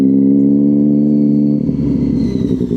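A BMW car engine drones steadily and loudly nearby, then its tone shifts into a rougher, fluttering rumble as it passes.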